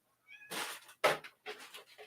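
An indoor cat gives a few short, close meows in quick succession, one sharper and louder than the others, with near silence in between.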